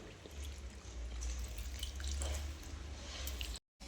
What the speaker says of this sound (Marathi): पाणी काढते वेळेस आपल्याला छान हाताने पिळून घ्यायचं, म्हणजे त्यात जास्त पाणी राहणार नाही